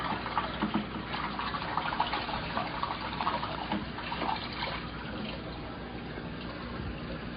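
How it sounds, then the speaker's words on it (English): Filter sponges being squeezed and rinsed in a bucket of water drained from a 75-gallon aquarium, giving steady sloshing, splashing and trickling, with busier splashes early on that ease into a softer wash. "got the sponges out, and I'm just going to clean them in the water that we're using or taking out of the tank"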